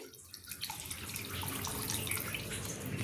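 Water pours steadily into a pressure cooker for vegetable rice, the splashing hiss building in the first second and then running continuously to the end.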